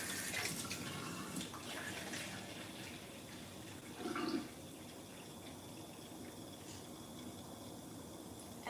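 Water runs into a pot in a home kitchen, a faint continuous trickling hiss with a brief louder splash partway through, quiet and without talk.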